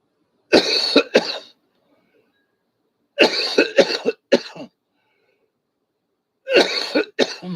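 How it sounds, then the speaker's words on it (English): A man coughs in three separate harsh bursts, each a cluster of rapid hacks, separated by quiet pauses. "I'm sitting here coughing."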